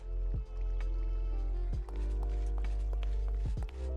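Water dripping in a Minecraft world, with repeated sharp drip-like plinks over a steady game ambience and low hum, several distinct drops spaced irregularly across the clip.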